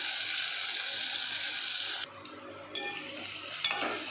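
Chopped tomatoes and onions sizzle loudly in a pan for brinjal sambal, a steady hiss that breaks off midway and then returns with stirring.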